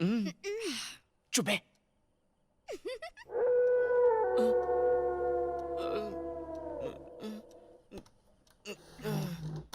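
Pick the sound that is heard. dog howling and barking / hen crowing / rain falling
dog howling and barking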